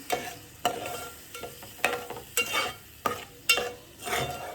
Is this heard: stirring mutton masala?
yes